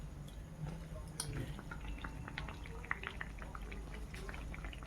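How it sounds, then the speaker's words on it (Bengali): Jaggery pitha cakes fry in hot oil in a village kitchen, giving a steady low bubbling sizzle with scattered small crackles and pops throughout. "তো পিঠে ভাজা হচ্ছে"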